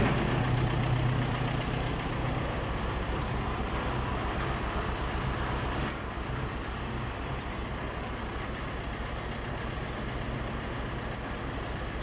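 Engine turning a chain on a homemade mixing paddle, the motor running with no tensioner fitted, a constant droning hum with faint rhythmic ticking on top, steady and moderately near with no talk.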